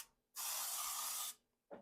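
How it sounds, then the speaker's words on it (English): A single sustained hiss of an aerosol cooking spray can, about one second long, up close, followed by a brief second short burst. "Spray it. In there."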